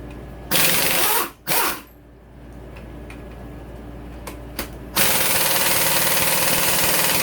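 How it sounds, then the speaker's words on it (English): An impact wrench works on 12 mm cylinder head bolts of a Suzuki RMZ450 engine, with two short loud hammering bursts, a quieter pause with faint clicks, then a longer sustained rattling burst. "Let's see if my impact will do it."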